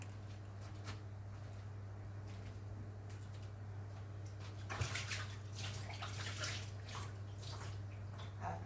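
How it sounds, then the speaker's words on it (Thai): Running water washes a pot lid over a low steady hum, starting as a soft trickle and then growing into a fuller, splashing stream partway through. "ไปล้างฝาอีกรอบหนึ่งนะคะ"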